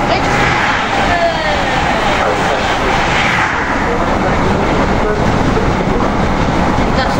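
A loud, steady rumble of a British Rail Class 313 electric passenger train rolling past close by at Stevenage, with continuous rail noise and a faint rising whine throughout.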